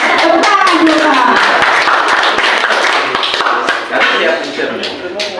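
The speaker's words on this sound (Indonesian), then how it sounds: "Tepuk tangan dulu, Pak." Teachers in a training session clapping their hands, an uneven, close burst of many claps mixed with overlapping voices and chatter, loud throughout and easing slightly toward the end.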